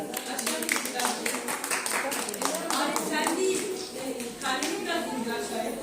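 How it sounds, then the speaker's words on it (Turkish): Classmates clap for a child receiving a medal at a school ceremony, a loose patter of hands running under a teacher's voice and children's chatter. "Alkışlayın arkadaşınızı"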